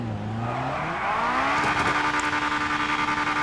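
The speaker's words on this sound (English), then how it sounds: "You can hear too if we do a little burnout." Acura RSX Type-S in the GTA 5 video game doing a burnout, its engine note rising and revving steadily loud and close for several seconds, with a rough exhaust buzz under the climbing tone and no talking.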